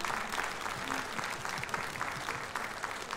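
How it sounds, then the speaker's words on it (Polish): A concert audience at a Silesian schlager show and year-end awards claps in dense, steady applause that carries evenly throughout. "Ale klaskajcie."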